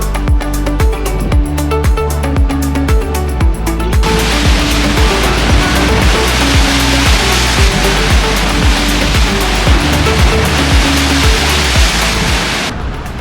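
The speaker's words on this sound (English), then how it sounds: "The power of the ocean is insane." Ocean surf pounding the rocky Oregon coast, a steady roar of broadband wash that thickens after the first few seconds, loud and continuous with no voices.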